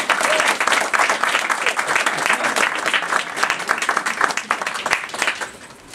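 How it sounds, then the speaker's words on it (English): An audience at a literary reading gives a reader a warm round of applause, dense, loud clapping that carries steadily for several seconds and thins out at the end. "Give him a big round of applause."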